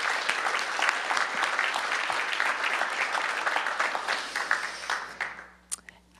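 An audience at a government open data announcement breaks into sustained applause, dense clapping that holds steady before thinning and dying away near the end, with a few last scattered claps.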